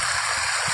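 Floodwater rushing past a blocked road at night, a continuous rough gushing and gurgling, close and fairly loud, with no speech.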